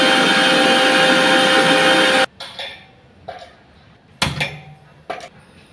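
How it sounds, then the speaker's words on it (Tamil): A kitchen mixer grinder coarsely grinds soaked chana dal, dried red chillies and salt without water, a loud steady whirring drone for about two seconds that stops abruptly, followed by several short clattering bursts as the jar is handled. "ஊற வச்ச கடலைப்பருப்பு, மிளகாய் வத்தல், உப்பு 3 சேர்த்து தண்ணி இல்லாமல் கொரப்பாக அரைச்சி எடுத்துக்கலாம் மிக்ஸியில்."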